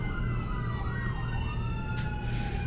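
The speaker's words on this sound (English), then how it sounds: "Cue siren for Ariella." A siren sound effect wails steadily in a continuous rising-and-falling tone. It sits at moderate loudness over a low background hum, and no voices are present.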